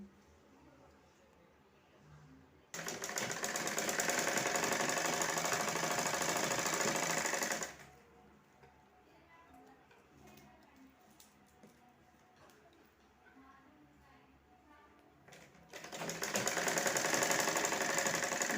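A sewing machine runs fast, stitching the side seam of a fabric purse. It makes a steady mechanical clatter in two runs with a quieter pause between them, fairly close.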